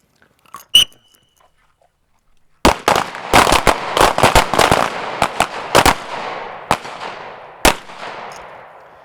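Pistol shots fired in a shooting drill outdoors: one isolated crack, a pause, then a rapid string of about a dozen sharp, loud reports with a few spaced follow-up shots and fading echoes.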